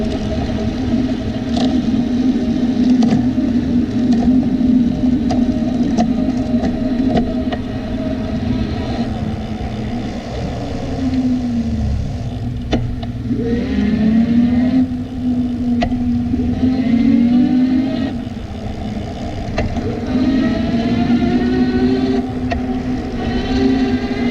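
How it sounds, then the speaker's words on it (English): AddMotoR MOTAN M150-P7 e-bike riding while shifting through the derailleur gears, a steady loud motor and drivetrain whine with shifting pitch glides, occasional clicks and wind rumble. "Here I'm going to switch through the gears just a few times so you can see the derailleur in action"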